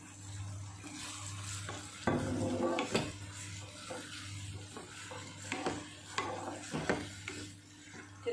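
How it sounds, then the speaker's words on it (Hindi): Schezwan noodles with soy sauce frying in a pan, a close sizzle with repeated scraping stirs and utensil clatter against the pan over a low steady hum, no talking. "फिर हम इसको और 3-4 मिनट पका लेते हैं।"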